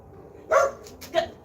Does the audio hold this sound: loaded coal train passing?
no